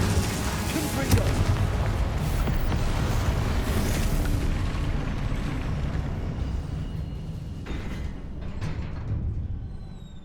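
Confringo fire blast spell in the Hogwarts Legacy video game, heavy booming blasts and rumbling explosions over dense combat noise, loud and continuous before trailing off slightly near the end.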